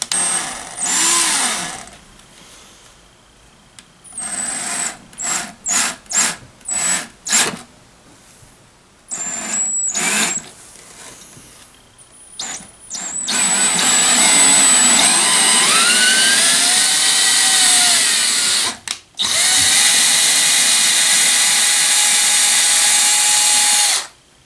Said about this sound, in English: We're going to go ahead and drill through, because this clutch is not working the way I want it to.